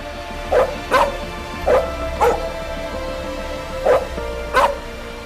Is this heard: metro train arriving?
no